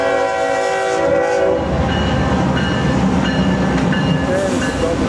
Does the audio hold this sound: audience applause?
no